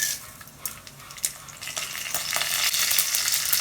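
Mustard seeds and urad dal frying in hot oil for a Tamil cabbage poriyal give a steady bright sizzle with scattered sharp crackles and pops. The sound builds louder toward the end, close up, with no talking.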